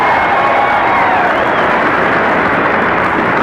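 An overflow crowd roars at a political rally in a coliseum in Jackson, Mississippi, a dense, loud, continuous wash of cheering and applause with no break.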